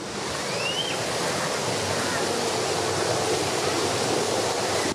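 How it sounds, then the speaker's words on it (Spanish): Sewage water gushes like a waterfall from a broken, obsolete pipe on a flooded street in the Roberto L. Petit neighbourhood, a loud, steady roar of rushing water with no break. "es una catarata pero de cloaca"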